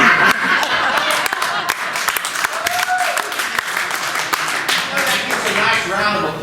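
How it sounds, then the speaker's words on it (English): A debate audience breaks into a round of applause, dense clapping sustained throughout with some scattered chuckles mixed in, fairly loud and close. "Nice round of applause"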